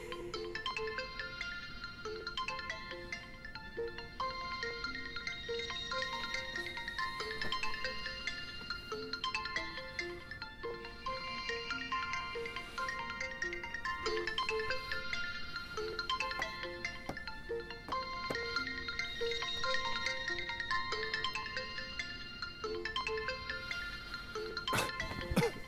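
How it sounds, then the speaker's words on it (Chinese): A mobile phone ringtone plays a bright, looping melodic phrase that repeats steadily for the whole stretch, alone and unanswered, with a sharp click right at the end. "高秘书， 你可算是接电话了。"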